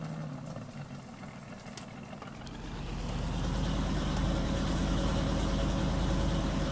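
A truck engine idling on a farm near a John Deere cotton harvester, a steady low rumble that swells louder and heavier partway through and then holds, close by with no talk.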